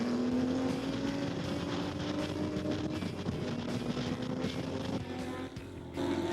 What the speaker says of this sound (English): The Alpha closing in on the Martini Porsche as they make their way through the open right-hand sweep.